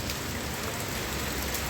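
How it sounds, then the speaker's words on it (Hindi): Steady rain falls on a July morning in Roorkee, a dense, even hiss of drops on surfaces holding constant for the whole stretch, with no voices or other sounds breaking through. "आज भी बारिश है"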